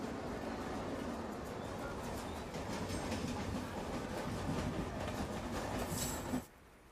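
A Mumbai local train runs steadily toward Dadar station, with a continuous loud rumble and rhythmic wheel clatter close by, then cuts off abruptly near the end.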